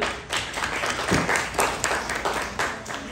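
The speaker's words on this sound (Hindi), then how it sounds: "मदर्स के लिए बहुत सारी तालियाँ" Lively applause from a crowd at a Fourth of July celebration held by a Pakistani American community, loud uneven clapping with a few sharper, closer hand claps standing out over the short burst.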